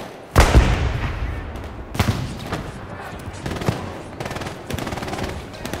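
Video game gunfire, a sharp loud shot followed by several more scattered bursts and reports over a few seconds, with faint background game ambience.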